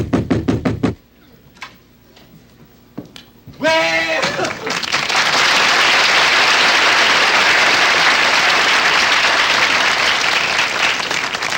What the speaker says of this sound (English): I usually get applause when I leave a room.